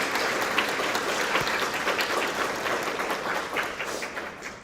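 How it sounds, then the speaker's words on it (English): Conference audience applause at an opening session, a dense, sustained round of clapping from a full room that holds steady and then tapers slightly. "Let's give them a quick round of applause again"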